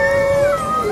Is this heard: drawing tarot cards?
no